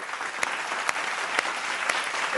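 A studio audience on a Bengali TV family game show claps in a steady, dense burst of applause, close and even throughout, with no voices on top.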